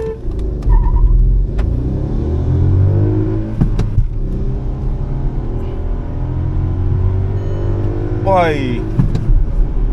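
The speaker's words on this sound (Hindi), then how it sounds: "तो अब चलते हैं सीधा ड्रैग रेस के।" Two cars, a Volkswagen Virtus sedan and a Mahindra Thar Roxx SUV, launch side by side in a drag race with traction off, engines rumbling and revving hard through gear changes, with a rising whine near the end, under excited shouting.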